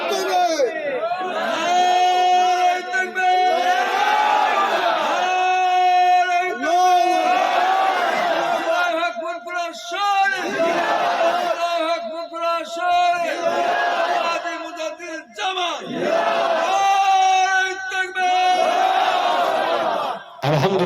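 A large crowd at a Bengali Islamic sermon gathering shouts the takbir in unison, loud chanted bursts repeated several times with brief pauses between them.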